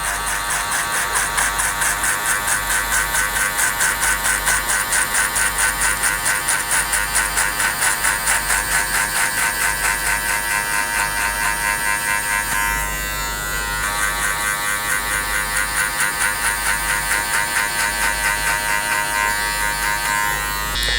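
Electric hair clippers fitted with a fully closed number 2 metal guard cut a fade, giving a steady, loud, close-up motor buzz that runs almost continuously, with one brief dip partway through before resuming.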